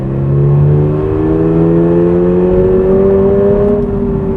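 A 2022 Subaru BRZ engine revs hard toward high rpm, a loud, close, steady climbing drone with a smooth rising pitch and no talk over it.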